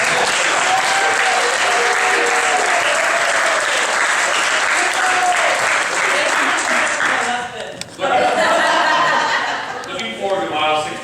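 A brunch crowd gives a big round of applause for Val, a sustained, loud clapping with chuckles and a few voices mixed in, dipping briefly near the end before rising again.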